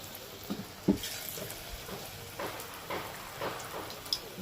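Lentil fritters frying in hot oil give a soft, steady sizzle, broken by scattered small pops and crackles at a moderate distance.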